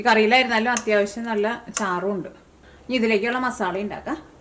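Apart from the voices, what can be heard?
No everyday noise stands out behind the speech.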